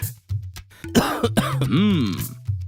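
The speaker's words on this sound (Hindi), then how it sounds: "मुझे पिछले 3 दिन से खांसी जुकाम हो रहा है" A man suffering from a three-day cough and cold coughs in a short, loud burst of several harsh, throaty hacks. The coughs are close up and include some throat clearing.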